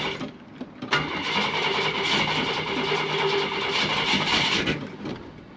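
A long-unused Ford Mustang engine, sitting idle for twenty years, cranks with a steady mechanical churn. It carries on loud and continuous for several seconds before cutting off near the end.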